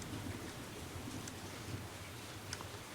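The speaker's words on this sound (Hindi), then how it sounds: "बाहर बारिश हो रही है" Steady rain falls outside as a soft, even hiss of patter, with a few faint ticks of drops landing nearby, heard alone without talk.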